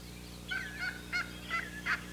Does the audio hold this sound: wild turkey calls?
yes